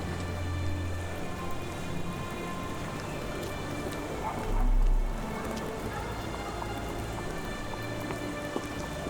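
Steady rain in the game Sherlock Holmes: The Awakened: an even, dense hiss of falling drops throughout, with a brief low rumble in the middle.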